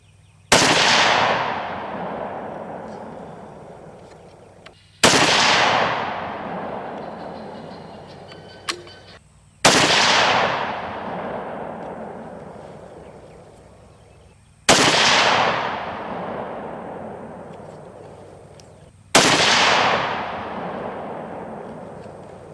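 Five loud, close .260 Remington rifle shots fired at a range, each a sharp crack with a long ringing decay, spaced roughly five seconds apart.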